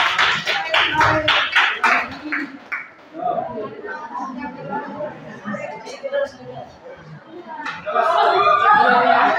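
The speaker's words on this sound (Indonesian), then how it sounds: "silakan tepuk tangan dulu." A school classroom full of people claps in quick bursts at the start, then chatter and laughter take over before clapping swells again.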